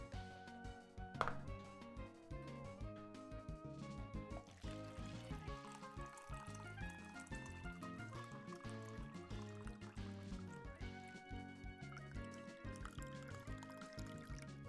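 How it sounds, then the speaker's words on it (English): Water is poured into a drinking glass as it is refilled, a soft, close trickle that is mostly buried under continuous game music with bright, tonal melodies. "Water pouring ASMR."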